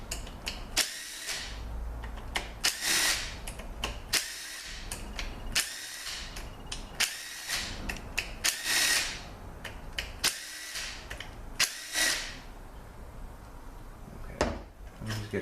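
Power tool working the Torx 40 bolts off a Ford 845RE transmission valve body during a case swap: repeated short bursts of whirring and rattling, close up, with clinks and handling noises between them.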